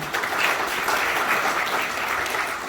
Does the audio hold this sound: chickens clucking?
no